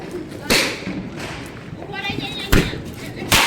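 Firecrackers bursting at a Diwali celebration, with three sharp loud bangs spaced apart over a background of talking voices.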